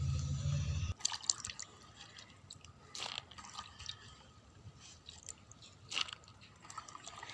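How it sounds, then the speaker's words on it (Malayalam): Turkey berries are rinsed in a final change of water, with a low hum at the start and then scattered small splashes and drips, near and fairly soft, in irregular bursts. "അവസാന വെള്ളത്തിൽ നമ്മൾ കഴുകുകയാണ്."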